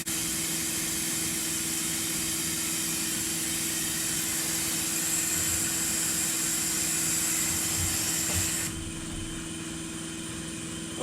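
A vacuum brake bleeder runs continuously, pulling fluid through the clutch system of a high-mileage Acura Integra, giving a steady loud whirring hiss that drops in pitch and level near the end.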